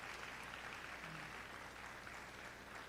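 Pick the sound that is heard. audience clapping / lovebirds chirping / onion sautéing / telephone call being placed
audience clapping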